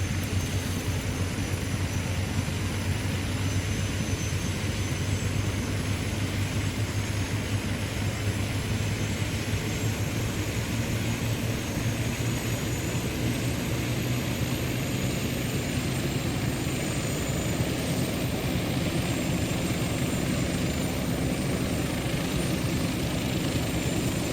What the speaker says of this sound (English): So we're just letting the rotor RPM climb up